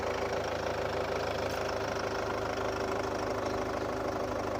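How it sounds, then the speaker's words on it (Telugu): A Chevrolet Cruze automatic car engine idles steadily after starting, a constant mid-pitched hum heard up close with no talk. "సింగిల్ సెల్ఫ్లో అయితే స్టార్ట్ అవుతుంది బండి"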